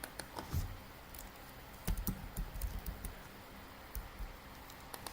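Quiet, irregular typing on a computer keyboard while entering data, with short bursts of key clicks and brief pauses.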